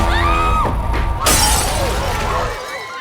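A glass table shatters in a film scene, a sudden loud crash with a burst of breaking glass and scattered debris following, heard over voices and background sound.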